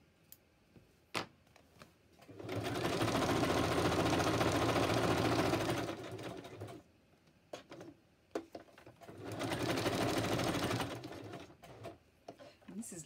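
A sewing machine zigzag-stitches around a paper tag in two close bursts of rapid, even whirring, each a few seconds long, separated by quiet handling clicks and rustles.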